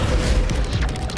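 A Bombarda explosion spell in the Hogwarts Legacy game lands as a loud, dense, rumbling boom with broadband crackle, filling the whole moment up close.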